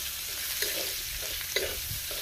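Onions fry in hot oil with a steady, fairly soft sizzling hiss, close by, marked by a few faint scraping taps of stirring, no speech.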